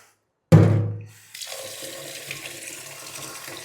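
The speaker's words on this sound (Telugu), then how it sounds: "బియ్యాన్ని కడగాలి" Rice being washed in water in a home kitchen: a loud splash of pouring water at first, easing off, then a steady low sloshing and trickling that continues on its own.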